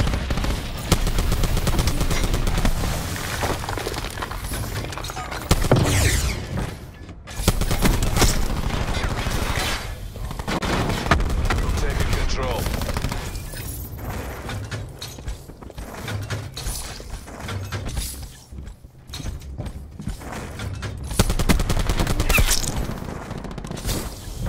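Rapid bursts of SAUG 9mm submachine gun fire in Black Ops 4, loud and dense, repeating in long rattling strings with short pauses between and mechanical clatter underneath.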